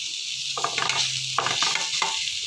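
Sliced cabbage and other vegetables sauté in a hot pan, giving a steady close sizzle broken by several short bursts of stirring and scraping.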